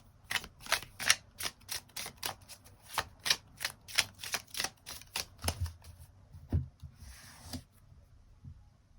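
Tarot cards being shuffled and drawn: a quick series of crisp riffling snaps and soft papery slaps in an uneven rhythm, close and fairly quiet, slowing toward the end with no voice.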